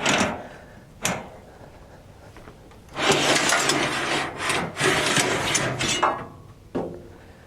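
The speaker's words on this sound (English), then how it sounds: "So after you have all the set screws loose, you can pull the shaft out." A metal hex shaft slides out of the meters on a Kasco standard seedbox drill, heard as close scraping and rubbing bursts with sharp knocks, including a long grinding drag in the middle.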